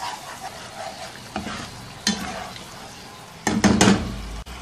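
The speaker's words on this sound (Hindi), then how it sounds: "1 खाने का चम्मच सब्ज़ मिर्चों का पेस्ट, 2 खाने के चम्मच टमाटरों का पेस्ट, 2-3 मिनट अच्छी तरह से पकाएंगे हिलाते हुए।" Green chilli paste and tomato paste stirred and frying in a pan, with a steady soft sizzle broken by several scraping spoon strokes and louder clattering stirs near the end, no talking.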